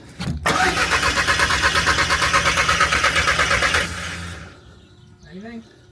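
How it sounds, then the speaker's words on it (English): A Mk1 Audi TT 225 8N engine cranks with a rapid, rhythmic churn for several seconds before it fires and settles into idle, close by, with a voice briefly speaking afterward. "Let me try and crank it"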